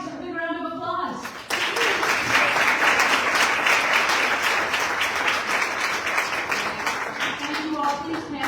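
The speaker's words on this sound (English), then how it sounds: "a big round of applause" Applause from an audience at a pay equity signing day event, a steady full wash of many hands clapping that starts abruptly after a brief voice and holds loud for several seconds, with talk returning at the very end.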